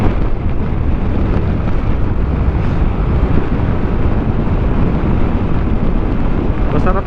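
Strong wind roars continuously across the microphone during a Fazzio scooter ride along a road in Zambales toward Liw-Liwa Beach, a dense, loud rushing noise with no pauses.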